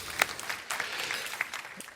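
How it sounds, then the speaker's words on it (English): Applause from the audience at a cybersecurity conference, quiet and somewhat distant, a soft spread of clapping for about two seconds with no one speaking over it. "Big round of applause."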